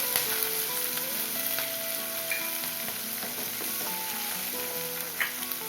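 Green chillies frying in oil for coconut rice, a soft, steady sizzle with light stirring scrapes and faint background tones, close and fairly quiet, no voices.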